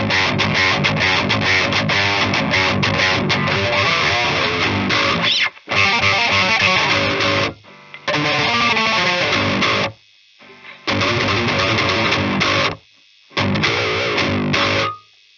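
Overdriven electric guitar through a KSR Eros pedal into a Harley Benton Mighty 15 amp, loud gritty chords and riffs played in bursts with several short silent gaps between phrases.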